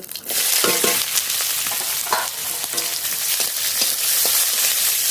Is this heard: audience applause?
no